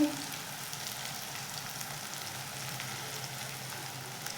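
Tomato sautéing in hot oil with garlic and coriander paste for a potato curry, giving a soft, continuous hiss of frying that stays even and fairly quiet from start to finish.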